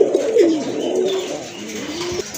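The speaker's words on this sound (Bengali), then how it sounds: "এক জোড়া গিরিবাজ কবুতর আছে, খুবই চমৎকার কালার, সাইজ কিন্তু অনেক বড় আছে, দেখার মতো কিন্তু ডাকতেছে" A pair of large Giribaz pigeons coo close by in a soft, throaty, rolling call that swells and fades over a couple of seconds, with no talking.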